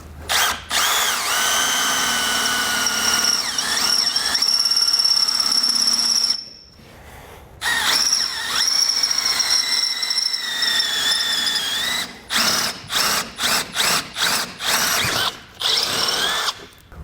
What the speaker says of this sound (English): we'll take a drill bit and drill them out